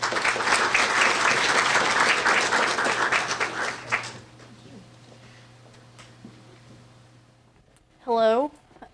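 Audience applause welcomes a student speaker to the stage at a university thesis presentation, a dense burst of clapping for about four seconds that quickly fades into quiet room tone.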